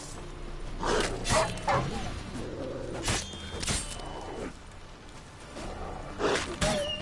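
Dogs in The Witcher 3: Wild Hunt bark repeatedly in irregular bursts, fairly close and loud, with a few yips and whimpers between the barks amid the game's ambient backdrop.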